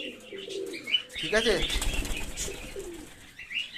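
Pigeons at feeding time in a cold-weather loft flap and call softly, with a burst of wingbeats midway, while someone talks nearby.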